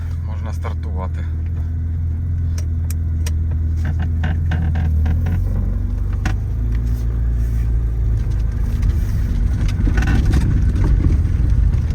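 A vehicle engine with a weak battery idles and runs steadily in a Ukrainian village, a continuous low rumble that holds throughout, loud and close, with some brief clicks and knocks over it.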